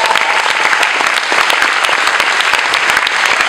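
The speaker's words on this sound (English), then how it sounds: "give another round of applause to our" Loud, dense applause from an audience at a school Christmas concert after a children's violin and orchestra performance, with many hands clapping rapidly and continuously from start to finish.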